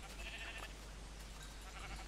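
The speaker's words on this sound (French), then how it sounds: "il y a des moutons partout, c'est incroyable" Sheep bleating in the Minecraft video game, two short bleats about a second and a half apart, faint over a humming background.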